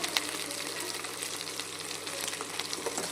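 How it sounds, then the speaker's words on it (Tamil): Garlic and dried red chillies sauté in oil for tomato chutney, giving a steady, close hiss of frying with faint scrapes of stirring throughout. "போட்டு நல்லா வதக்கிக்கிறணும்"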